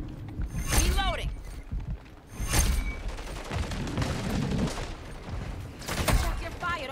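Video game firefight with shotgun blasts and scattered gunfire bursting through a busy battle mix, with people talking over the shooting.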